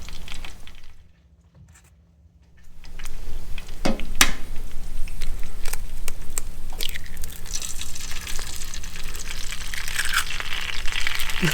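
Oil heats and eggs fry in a pan on an off-grid stove in a remote log cabin, a steady close sizzle that starts after a brief quiet gap, with scattered clicks and pops.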